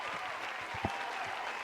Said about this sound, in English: Give them an applause there.